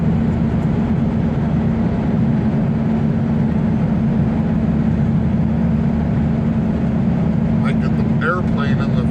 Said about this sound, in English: there's an airplane flying off